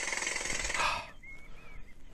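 A jackhammer used for road work pounds in a dense, loud rapid rattle for about a second, then cuts off abruptly, leaving quiet room tone with a faint thin whistle-like tone.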